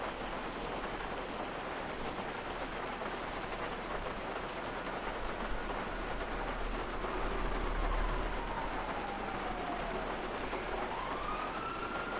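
In a video game, a faint wailing police siren rises and falls in the distance beneath a steady hiss like heavy rain, growing a little louder as it nears.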